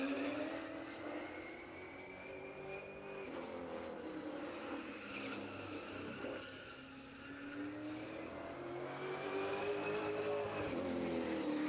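A late model race car laps Madera Speedway, its engine a steady loud drone that rises and falls as it circles the short oval, with no talking over it.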